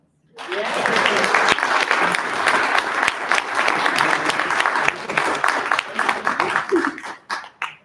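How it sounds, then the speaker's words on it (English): Audience applause at a Rotary Club of Tyler meeting honoring RYLA student recipients, a burst of full crowd clapping that rises quickly, holds steady, then thins out toward the end. "Please join me once again in applauding our 2023 Ryla recipients"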